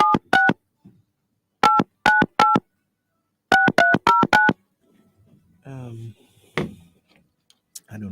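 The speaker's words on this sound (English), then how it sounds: "Let me call again." Telephone keypad tones beep in quick clustered bursts, with short pauses between groups, followed by faint voice sounds and small handling noises.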